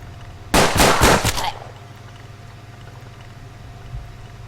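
Revolver fanned in the Hard West video game, three or four rapid loud gunshots in a quick burst, then a low steady ambient hum, no talking.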